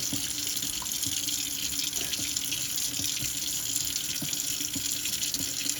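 A sink tap runs in a single kitchen sink while a sponge is rinsed under it during dishwashing. The water makes a steady, continuous splashing rush with no talking.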